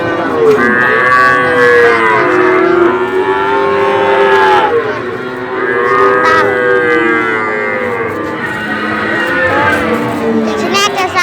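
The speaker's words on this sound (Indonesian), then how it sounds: "Di sini ada sapi babonan." Cattle at the Wirosari cow market lowing loudly and repeatedly, several long moos overlapping close by over a steady crowded market din, with people talking in the background.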